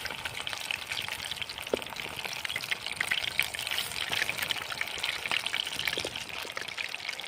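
Chicken pakoda pieces sizzle in hot oil at an Indian street food stall, a steady crackling hiss with occasional pops, moderately close and continuous, with no voices.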